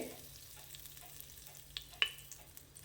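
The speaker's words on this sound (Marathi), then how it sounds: "हे मसाले आपल्या तुपामध्ये घालून थोडे परतून घ्यायचे" Whole spices (cinnamon stick, cloves and cardamom) frying in hot ghee give a soft, steady sizzle close by, with faint scattered pops and a couple of sharper crackles, and no talking.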